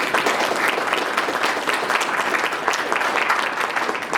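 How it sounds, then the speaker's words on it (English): Loud, continuous applause from a comic expo premiere audience, many hands clapping together in a dense, even wash for the full few seconds. "give them a round of applause"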